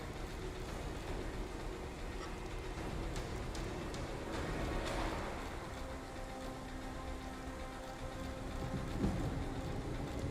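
Steady rain falls in a moody outdoor scene in The Evil Within survival horror game, a broad even hiss with a faint rumbling undertone and no talking.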